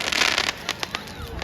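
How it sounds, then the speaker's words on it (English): Fireworks bursting from a nearby house on Bonfire Night, a dense crackling volley at first that thins into scattered pops and snaps over the short stretch, heard from outdoors. "these fireworks are somebody else's fireworks at their house"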